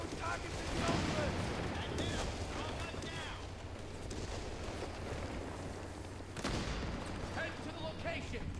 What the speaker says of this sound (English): Start that artillery barrage.